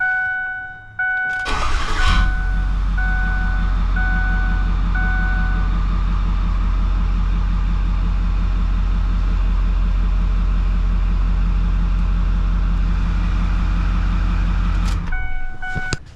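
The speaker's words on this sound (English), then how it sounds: "So start it up, rev it for about 30 seconds. Not really rev it, but idle it for about 30 seconds" A Ford 6.4 Powerstroke diesel cranks and catches, then settles into a steady, loud idle with a deep, even clatter that runs unbroken for about thirteen seconds before cutting off.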